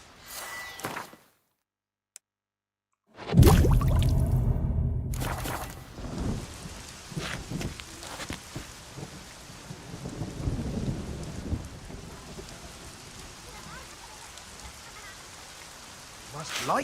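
Rainstorm with rolling thunder in The Witcher 3, a loud low rumble breaking in after a short silence, then steady rain hiss with scattered distant thunder and faint footsteps, with occasional voices.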